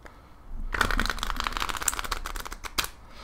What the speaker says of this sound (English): I'll do a shuffle test real quick. They shuffle very easily.